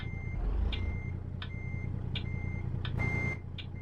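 Reversing beeps sound from a truck in the game American Truck Simulator, a steady series of evenly spaced electronic tones over a low, constant engine rumble.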